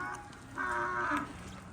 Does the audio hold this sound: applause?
no